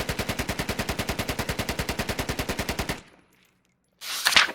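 An AKM rifle with a 50-round drum magazine fires in the video game Squad, a rapid sustained automatic burst of about thirty evenly spaced shots for three seconds, then silence and a short rattling noise.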